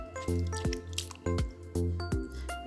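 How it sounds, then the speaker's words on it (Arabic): Tuna pieces lifted from marinade and shaken off give a run of close, wet squishy drips and small splats in quick irregular bursts, fairly quiet and with no talk. "ولما تيجي ترفعي السمك كده بتنفضيها كده من التتبيله."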